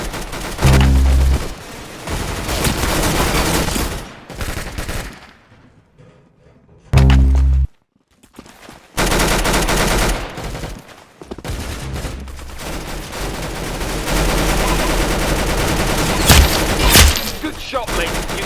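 Rapid gunfire from the Arsenal video game: loud, dense bursts of shots and thuds close up, with a short quiet gap in the middle before the firing resumes and keeps going.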